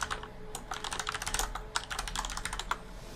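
A terminal command is typed on a computer keyboard as a quick, close run of irregular key clicks and taps with no voice.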